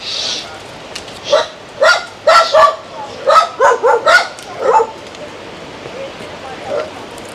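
A dog barks in a short burst of about ten sharp, fairly close yaps and bow-wows in quick succession, then goes quiet apart from one last faint yip.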